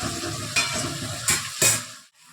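Bengali spice paste of mustard, cumin and ginger for tel koi fish curry sizzling in a pan, stirred with a few louder scraping strokes before the frying noise cuts off.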